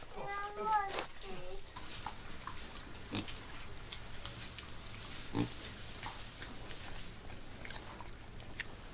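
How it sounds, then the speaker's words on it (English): Large black pigs on a community farm at Union Farm in Crescenthall squeal and grunt nearby, with a burst of high calls in the first couple of seconds and scattered snorts after, while people talk throughout. "This is where we're keeping the 9 large black pigs that come from Union Farm in Crescenthall."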